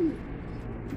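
Pigeons cooing inside a cage, a low, soft coo rising briefly at the start over a steady murmur of close roosting birds.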